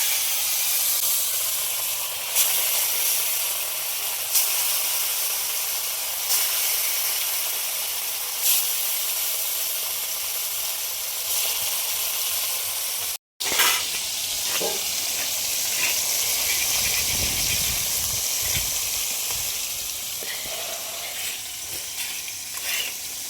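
Fish pieces coated with salt and turmeric fry in a pan, a loud, close, hissing sizzle that carries on steadily with a brief cut midway and some clattering afterward.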